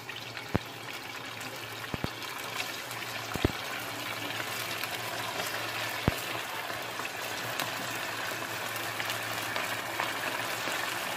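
Rice snacks (keba) frying in hot oil over medium heat: a steady, close hiss of bubbling oil runs throughout, with a few sharp clicks on top.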